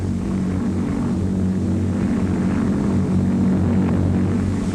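A 1940 Lockheed Lodestar propeller airliner, fully loaded, roars down the runway on its takeoff run, a loud, steady engine drone with a deep throbbing hum that holds constant throughout.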